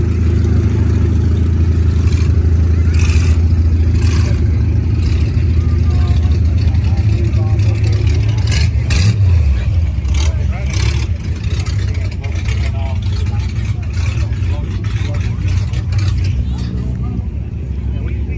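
Circle track cars rumble past at a county demolition derby, including a mid-80s Ford stock-class car, their engines droning loud and steady with crowd hubbub and a voice talking over them.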